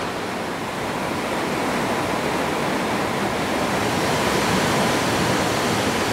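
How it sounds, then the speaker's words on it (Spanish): Steady roar of a waterfall in a natural outdoor setting, a dense, continuous rushing wash of falling water, loud and unbroken from start to finish, with no voices. "ya llegamos a la cascada"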